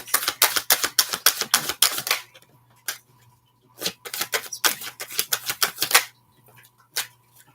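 Rapid bursts of crisp tarot card riffling, two clusters of quick flicking separated by a brief pause and a few isolated snaps, close and fairly loud.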